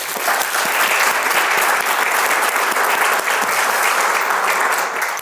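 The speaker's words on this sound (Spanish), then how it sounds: "pido un aplauso para ella" Loud, dense audience applause for a guest author at a cultural event hosted by a town council, sustained evenly throughout and close by.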